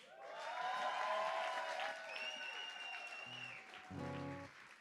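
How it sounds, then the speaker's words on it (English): Audience at a live music show at The Bedford applauds the next performer, a few seconds of clapping and cheering with a whistle-like tone and voices mixed in. "you just have to go crazy, crazy, mad, with your applause for our next performer"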